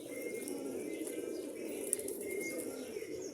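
Pigeons coo softly close by, a low continuous burbling with a brief faint chirp, set against steady ambient noise.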